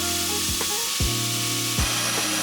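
A 2x72 belt grinder shaving down a steel hammer tomahawk, a steady loud abrasive rasp with rising and falling motor tones as the workpiece is pressed and lifted repeatedly.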